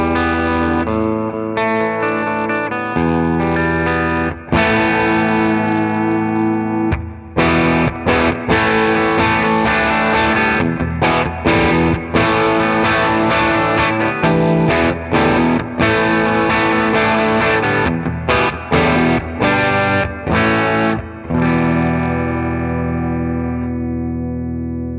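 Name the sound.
Chapman ML3 Pro X electric guitar, bridge pickup with added drive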